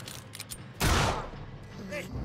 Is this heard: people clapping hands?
no